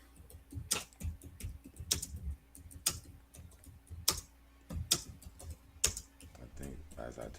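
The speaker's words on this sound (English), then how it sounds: "I'm typing the question in right now." Typing on a computer keyboard, a question entered into a chatbot: uneven bursts of close, crisp key clicks with short pauses between, and occasional soft low sounds underneath.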